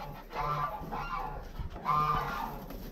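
Ducks and muscovy ducks give two drawn-out, nasal honking calls nearby, with a short break between them.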